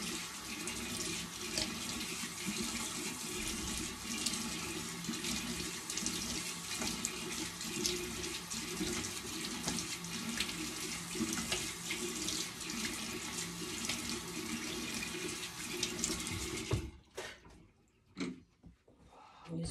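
Tap water runs steadily into a sink while a face is rinsed, a close continuous splashing hiss for most of the stretch, then it cuts off, leaving a few faint drips and handling noises.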